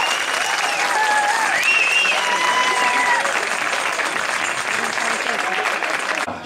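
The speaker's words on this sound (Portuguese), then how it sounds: "Uma salva de palmas então para o rancho folclórico" A crowd at a folk dance group's anniversary celebration applauds loudly and continuously, with cheering voices and whistles rising over the dense clapping before it cuts off.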